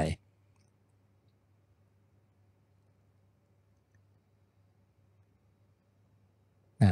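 Two sharp computer mouse clicks, one at the very start and one at the very end, separated by several seconds of faint low hum while a spa-shop database is being built with ChatGPT.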